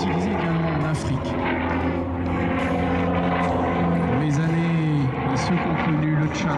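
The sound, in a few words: Douglas Skyraider propeller aircraft flying at an air show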